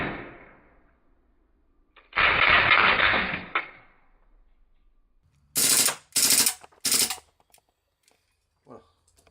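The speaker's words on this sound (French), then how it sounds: "de vider un chargeur complet sur une cible à environ 7 mm" A PFAM9B firing full auto at a target about 7 m away: three sharp, loud bursts in quick succession, preceded by an earlier stretch of dense broadband noise and followed by a faint short knock.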